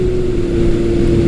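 A 1980s Yamaha XS1100 or Kawasaki KZ1000 motorcycle engine holds a steady loud drone at about 4,000 RPM while cruising at 60 mph, a continuous low hum with a strong tone throughout.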